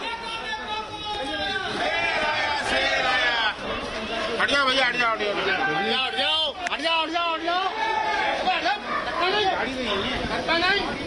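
A dense crowd of people chattering and calling out around Home Minister Amit Shah in Mathura, continuous loud babble of many voices close by with no break.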